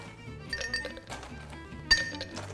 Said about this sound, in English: we're gonna start off by refreshing our wonderful French vintage glass and our mixing glass.